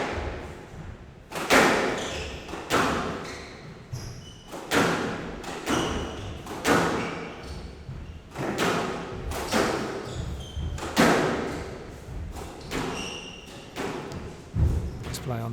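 A squash ball rally in a match: hard, rhythmic thwacks of racket and ball echo off the court walls with steady pacing, while a commentator talks over the play.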